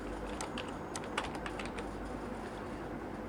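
Fast typing on a computer keyboard, a quick run of close, crisp key clicks over a steady low hum, with no talking.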